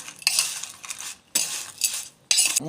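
A spoon scrapes and clinks around a bowl as Maggi bhel is tossed and mixed. The gritty stirring comes in three bursts, close and moderately loud, with no talking.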